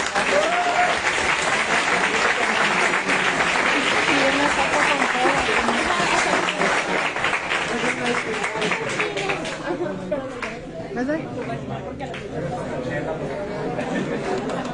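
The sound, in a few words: audience applause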